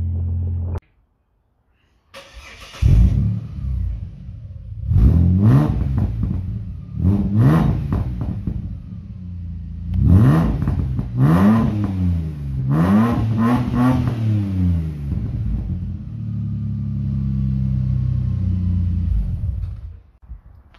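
A naturally aspirated Barra engine in a Ford Territory accelerates hard during road tuning runs, heard as repeated rising revs through the gears with short drops between shifts, then a steady drone as it settles.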